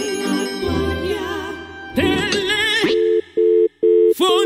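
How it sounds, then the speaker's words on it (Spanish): Telephone in a Pocoyo cartoon rings in short repeated electronic tone bursts, loud and close, heard after a stretch of bright musical sound. "Teléfono."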